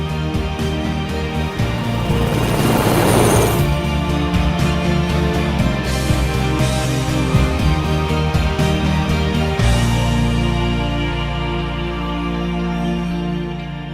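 A UH-60 Black Hawk helicopter fitted with a FastFin tail modification flies nearby, its rotor and turbine roar loud and steady throughout, with a swelling whoosh early on and no voices.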